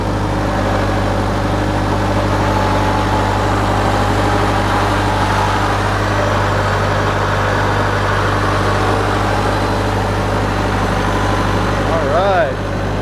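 A Kubota utility vehicle fitted with a snorkel driving on a wet trail in two-wheel drive, its engine giving a loud, steady low rumble throughout, with a voice briefly heard over it.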